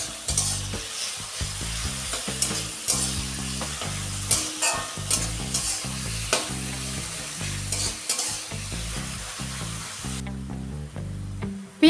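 Sliced onions fry lightly in oil in a pan, a continuous close sizzle with rhythmic stirring and scraping strokes throughout, no voices.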